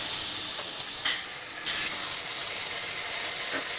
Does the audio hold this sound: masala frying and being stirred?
yes